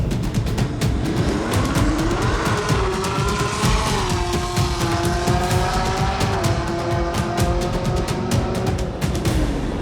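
A Camaro makes an eighth-mile drag run at a track, its engine roaring loud and close with rising gear pulls and shifts stepping the pitch up and down, sustained aggressive exhaust throughout with no talking.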